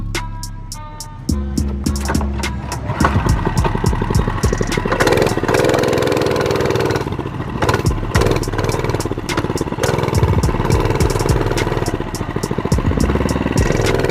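A mini bike engine revs and putters while being ridden around at the Starved Rock Nationals, loud and close, with rapid sharp clicks and clatter over the running engine throughout.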